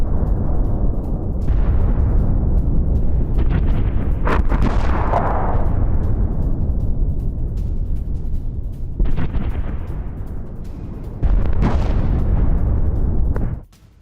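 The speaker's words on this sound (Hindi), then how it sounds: "यूक्रेनी हमले में जोरदार धमाका किस तरह हुआ" Explosions from a Ukrainian attack on an ammunition depot in Belgorod rumble in a long sequence of deep, loud booms and blasts, with sharper bursts and pops breaking through the continuous roar, no voices present.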